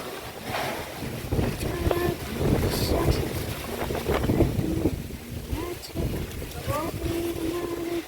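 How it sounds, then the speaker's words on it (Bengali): Strong wind gusts buffet the microphone in a steady roar under evening dark clouds, with voices talking over it throughout. "দারুণ হাওয়া দিচ্ছে, দারুণ।"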